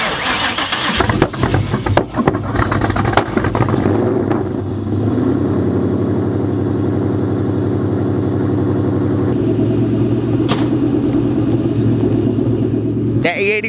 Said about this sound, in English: hear this sweet, sweet sound of the American V8.